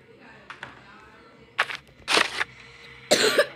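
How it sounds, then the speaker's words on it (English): A person coughs in several short, sharp bursts, the loudest coming near the end, over quiet background sound during a Roblox Rainbow Friends game session. "I have some cough, that's why I'm coughing."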